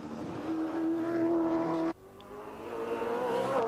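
A Holden VP Commodore V8 race car at Bathurst in the 1992 Tooheys 1000 shootout, engine screaming at high revs, then a sharp cut as it brakes hard, followed by a steady rising drone as it pulls through the gears, loud and close.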